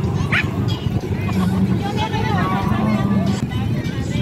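Two dogs barking together on a crowded white-sand beach at Abagatanen, Pangasinan, with short yips and whimpers mixed in, close and fairly loud over steady crowd chatter and distant engine noise.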